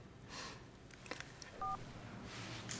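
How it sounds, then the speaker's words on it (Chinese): A telephone number is dialed by keypad, a short run of DTMF tones sounding alone and fairly quietly, with no talk. "我这就给他打电话。"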